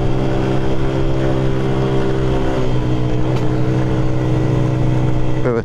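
Yuki Margherita 50cc motorcycle riding onto a rough road, its small engine droning steadily up close throughout with slight pitch shifts and a brief rev near the end.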